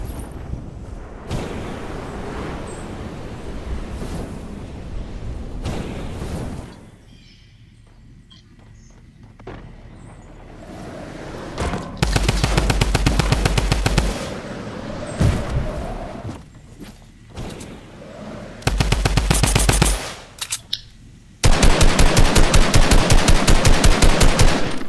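Rapid automatic gunfire in the Fortnite video game, with bursts of dense, loud shots separated by quieter stretches of ambient game sound and faint movement.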